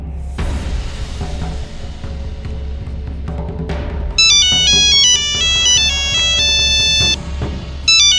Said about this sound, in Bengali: কেন্দ্রে থেকে ফোন দিছে